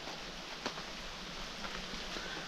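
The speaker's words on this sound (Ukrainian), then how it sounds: "Йде дощ, нікуди він не дівається." Steady rain falls outdoors beside the Southern Bug river at a fishing spot, a continuous broadband hiss with a few louder drop impacts, close and even throughout, with no talking.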